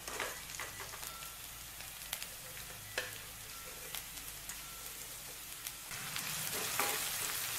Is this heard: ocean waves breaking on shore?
no